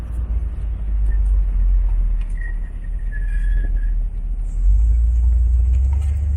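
A 1968 Chevrolet Corvette convertible's engine runs steadily outdoors on a cold day, a continuous low rumble that swells slightly near the end, with no talking over it.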